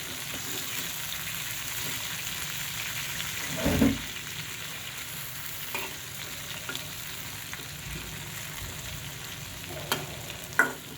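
Young chicken pieces fry in oil with a steady close sizzle, broken by a louder burst of spattering and a few sharp clinks as the pieces are moved, no speech.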